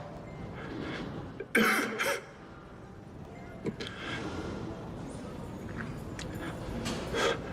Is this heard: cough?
yes